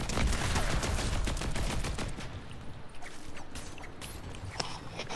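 Rapid bursts of gunfire from guns in the battle royale game Fortnite, dense and loud at first, then thinning into scattered shots with no talk over them.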